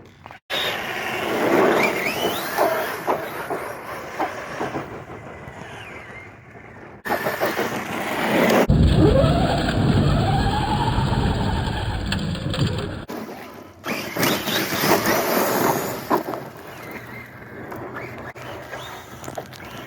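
A Redcat Kaiju RC monster truck running on a 6S Gens Ace LiPo battery, its electric drive whining and revving in loud surges outdoors, with wind buffeting and abrupt cuts between runs.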